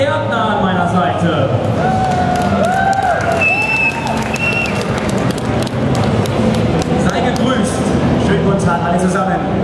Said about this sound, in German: Bitte begrüßt mit dem größtmöglichen Applaus hier als erstem Act auf der ATX-Bühne